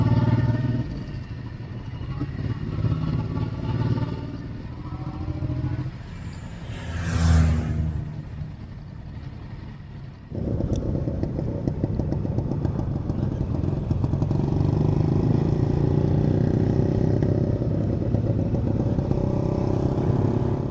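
Motorcycles ride through Warsaw during the Independence Day march, a steady close engine drone with clatter and wind rush, a brief passing whoosh midway, then a louder, fuller engine roar.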